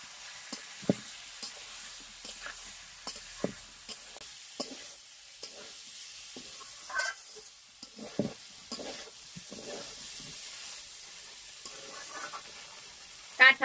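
Jackfruit curry simmering in a pan after a little water is added, a soft steady sizzle with repeated spoon-stirring scrapes and clicks close by.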